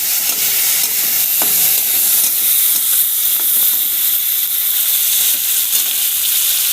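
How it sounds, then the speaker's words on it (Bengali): Turmeric and salt sizzle in hot mustard oil in a pan, making a steady, close frying hiss with a few light stirring clinks. No one talks. "হলুদ, একটু নুন দিয়ে দিলাম এবং সর্ষের তেলে দিচ্ছি।"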